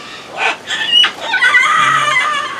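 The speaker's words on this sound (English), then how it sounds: "It's an umbrella cockatoo." An umbrella cockatoo at an aquarium bird exhibit gives several loud, harsh screeching calls in close succession, the last one drawn out, with no talk over them.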